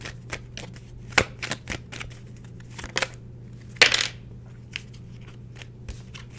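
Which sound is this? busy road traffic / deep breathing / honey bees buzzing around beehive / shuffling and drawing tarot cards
shuffling and drawing tarot cards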